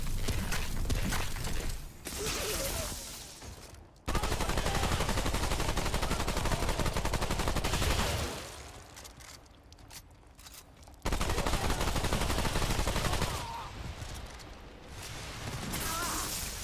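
Sustained bursts of automatic gunfire from an enemy gunner in the shooter game Remnant 2, loud and dense in several long stretches with short quieter gaps between volleys.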